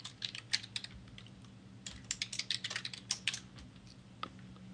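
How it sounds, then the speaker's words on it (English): Fingers type on a computer keyboard in uneven bursts of quick clicks, with short pauses between them; the keystrokes are close and fairly faint against a low steady hum. "I'm typing into Twitter right now"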